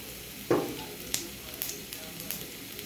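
White cumin seeds hit hot oil in a pan with vegetables pushed to one side, giving a sharp burst of sizzle and then a softer crackle with a few scattered pops.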